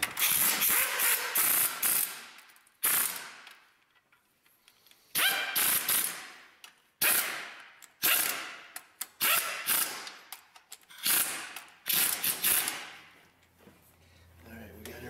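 A ratchet torques bolts on a Chevy truck engine, loud close bursts of rapid clicking repeated in several runs separated by short pauses.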